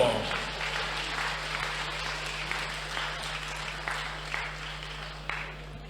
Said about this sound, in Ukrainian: Від ваші оплески Чобану Михайло!